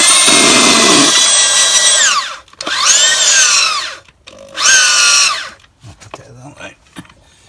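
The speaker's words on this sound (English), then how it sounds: "Just trying to drill a hole through the retaining wall" A power drill boring through a retaining wall whines loudly in three long bursts, its pitch sagging under load and rising again, with short pauses between and a voice briefly at the end.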